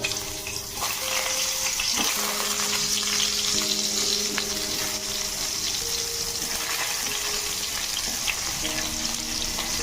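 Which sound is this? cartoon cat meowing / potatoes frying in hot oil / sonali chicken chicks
potatoes frying in hot oil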